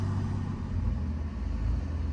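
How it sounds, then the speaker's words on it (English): A car engine idling and lightly revved after a touchless tunnel car wash, a steady low rumble held close and continuous without clear surges, no talking. "But when you rev the engine,"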